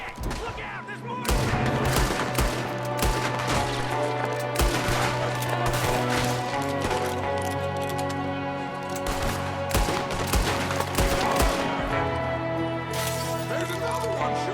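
Dense, continuous gunfire from enemies in a Red Dead Redemption 2 shootout, overlapping rapid shots and bursts that keep up loud, steady and close throughout.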